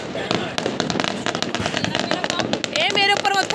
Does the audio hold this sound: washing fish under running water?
no